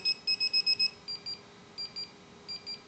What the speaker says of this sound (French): le chien s'éloigne, il y a le bip, il n'y a que le bip